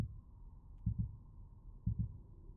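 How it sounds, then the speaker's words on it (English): Heartbeat in the video game Witch Hunt: low, muffled double thumps repeating roughly once a second over a quiet ambient hum, with no voices. "Or is that just my own heartbeat that's getting faster?"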